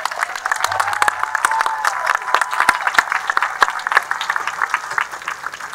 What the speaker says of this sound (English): You clap for them again.